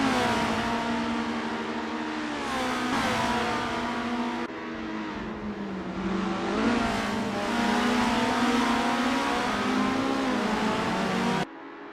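Race cars in the racing game Assetto Corsa drone past in a dense pack, engines revving and shifting in loud overlapping waves with continuous high-pitched whine, no voices.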